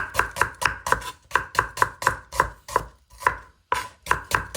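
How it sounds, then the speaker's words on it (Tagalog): A knife slices onions on a cutting board in about a dozen crisp, evenly spaced strokes with one brief pause, close and clear with no talking. "mag-ahit tayo ng onions para sa ating pinapainit na mantika"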